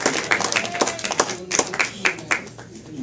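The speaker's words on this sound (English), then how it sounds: "give her a big round of applause" Audience applause at a charity penny auction, a handful of scattered, uneven claps spread across a few seconds, thin and fairly close, with background chatter beneath.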